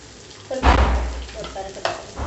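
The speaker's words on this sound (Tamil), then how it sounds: "கொத்தமல்லியும் கொஞ்சம் போட்டுக்கோங்க போட்டு வதக்கிடணும்" Chopped coriander leaves drop into a hot pan of tempering for coconut milk curd rice, raising a sudden hiss and sizzle that settles into a softer crackle as they are stirred, with a second brief burst near the end.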